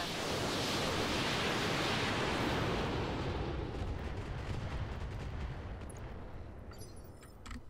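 Mech weapons fire in the Roguetech video game, a loud, dense roar of blasts and rumbling that slowly fades over several seconds, with no one speaking.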